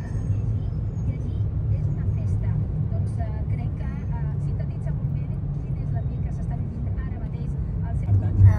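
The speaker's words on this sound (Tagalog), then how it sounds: "Traffic." Road traffic near the Sagrada Família in Barcelona gives a steady low rumble of passing vehicles, with people talking over it and a slight swell at the end.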